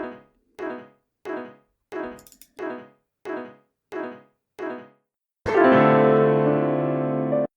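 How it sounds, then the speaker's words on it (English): A processed piano chord stabs eight times in a steady rhythm with quick fades, then a full chord rings out and sustains. "Next up is this pause piano sample, which sounds like this. Just a sampled chord."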